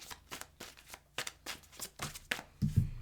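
Tarot cards being drawn out and shuffled, a rapid series of crisp riffling flutters in short bursts, close and fairly quiet, ending in a couple of soft thumps as the deck settles.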